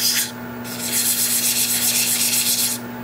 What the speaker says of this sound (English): So I'll do this hand sanding with the